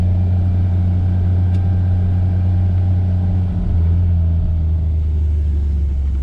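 A race car driven on the road, its engine giving a loud, steady low rumble from inside the cabin, constant throughout with a slight shift midway and no talk.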